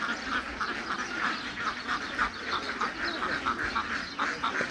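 Ducks at a market, Chinese and local breeds among them, quack repeatedly and close by in a busy overlapping chorus of nasal calls over a steady background murmur.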